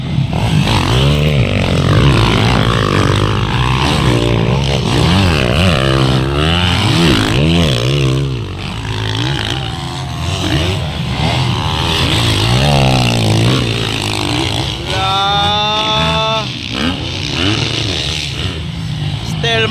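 A 250cc dirt bike races 450cc dirt bikes over a twelve-lap motocross course, engines revving and shifting pitch as the bikes pass at close range, with voices shouting over the loud, continuous motor noise.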